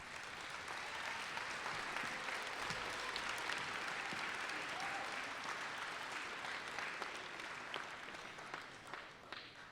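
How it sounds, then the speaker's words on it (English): Sustained applause from a sizable crowd at a school sixth-grade festival, steady and dense clapping throughout with no pauses, fairly distant and even in loudness. "One special applause for them, please"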